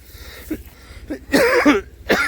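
A person near spoiled, fungus-blackened groundnuts coughs and clears the throat a few times in quick bursts, close by and growing louder.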